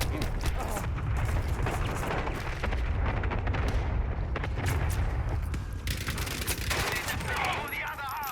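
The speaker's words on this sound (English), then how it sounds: "Allied cluster strike inbound." A Battlefield 5 cluster strike lands as a dense string of explosions and crackling blasts amid heavy weapon fire, loud and continuous throughout, with voices faintly present.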